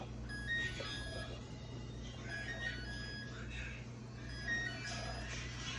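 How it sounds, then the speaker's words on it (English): A kitchen timer goes off during stovetop steam canning of watermelon jelly, giving faint repeated electronic beeps over a steady low hum in a quiet kitchen. "timer just went off"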